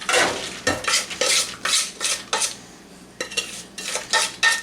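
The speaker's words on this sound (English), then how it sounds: "So now we'll go ahead and throw this into our strainer." Seasoned, salted pumpkin seeds are tipped into a strainer, making a series of close, fairly loud rattling and scraping bursts with short pauses between them. No voices are heard.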